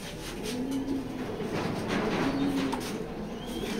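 Male racing pigeon cooing in repeated low, droning calls, two clear coo phrases over steady background noise, fairly close, no talking.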